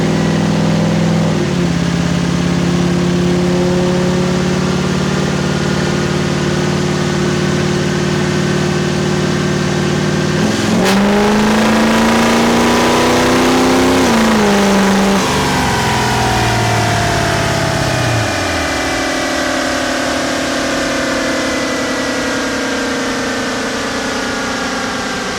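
A modified pickup truck runs hard on a dyno, its loud engine droning steadily, then rising sharply in pitch around the middle of the pull before easing back down to a lower rumble.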